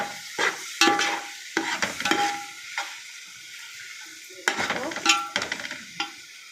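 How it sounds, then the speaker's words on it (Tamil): A paste of ground mint, coriander, green chilli and onion for biryani is stirred in a pan, with scraping spoon strokes coming in short bursts and a light sizzle underneath. "இதை போட்டு நல்லா வதக்கிக்கலாம்."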